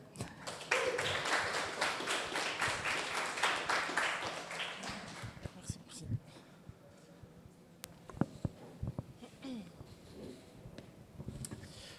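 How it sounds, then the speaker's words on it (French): An audience claps for presenters at a coding bootcamp demo day, a dense round of applause for several seconds that thins into a few scattered claps and taps in a quiet room. "On peut les applaudir"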